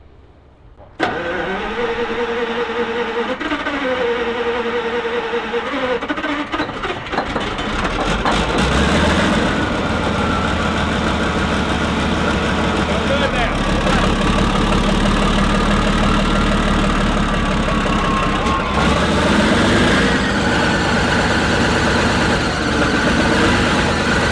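An old Model 30RXL wood chipper engine that has been sitting cranks and catches, then settles into a loud, steady idle with a rev shift partway through, running continuously to the end.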